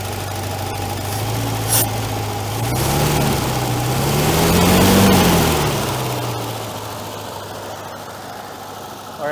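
A 1968 GMC truck engine, restarted after 17 years abandoned, idles steadily with an engine knock, its low hum swelling and easing back midway, with a faint rhythmic ticking beneath; no talking.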